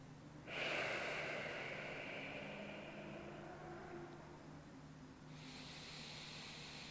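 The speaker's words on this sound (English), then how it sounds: "We're breathing here for about a minute, maybe a little longer." A person doing a restorative full-body stretch breathes deeply and slowly: one long, airy exhale fades away over several seconds, then another breath begins, close and quiet with no talking.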